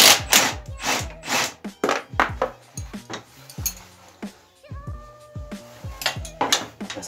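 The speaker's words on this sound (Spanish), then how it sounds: "con una llave sujetamos por la parte de aquí y por el otro lado aflojamos un dado 13 milímetros" A wrench with a 13 mm socket works loose a nut on a lowered ATV150 engine: repeated close metallic scrapes and knocks in an irregular rhythm, with brief ringing metal tones partway through.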